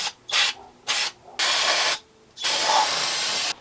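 Brake cleaner sprays from an aerosol can onto an engine in four hissing bursts: two short blasts, then two longer ones, each sharp and close with short pauses between.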